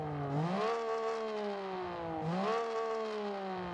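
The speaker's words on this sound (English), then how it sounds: "It sounds like it almost sounds like it's got turbo whistle on a naturally aspirated engine." Simulated naturally aspirated car engine in BeamNG Drive, revving up twice with a rising whine that resembles a turbo whistle, loud and continuous with no talking.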